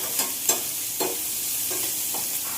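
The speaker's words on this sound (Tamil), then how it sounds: "இப்போ வெங்காயத்தை போட்டு நல்லா வதக்கிடலாம்." Onions sautéing in a pan for a mushroom pepper gravy: a continuous bright sizzle up close, punctuated by a few quick stirring scrapes in the first two seconds, with no voices.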